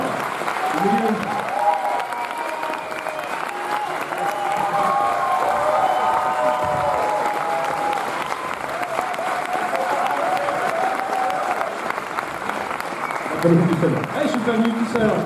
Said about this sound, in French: je vais vous demander d'applaudir Olivier Afonso.